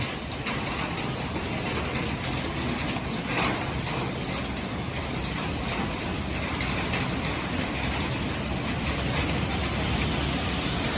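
Steady rain pours down continuously in Lahore, a dense hiss of drops on surfaces with no voices, close and fairly loud throughout.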